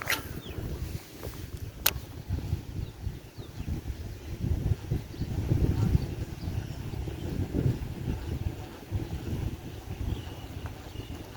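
Strong wind gusts buffet the microphone on a riverbank during shore fishing, a continuous low rumbling roar that swells and eases over the whole stretch, with faint brief ticks and no talk.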